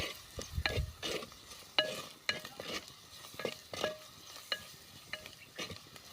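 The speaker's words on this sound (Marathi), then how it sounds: "आता यामध्ये आपण टोमॅटो टाकूया. 2 मिनटं परतून घेऊया." Tomatoes stir-fried in a pan: a spatula scrapes and clinks against the metal in an irregular rhythm over a soft sizzle, close by and without speech.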